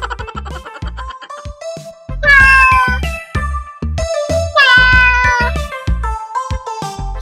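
A cat meows loudly in a series of drawn-out, wavering calls with short gaps between them, heard alone without any talking.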